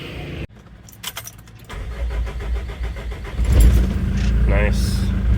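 A Mitsubishi Pajero diesel engine with a new fuel filter and start-stop solenoid begins with a jangle of keys, then cranks and catches into a loud, steady diesel idle up close.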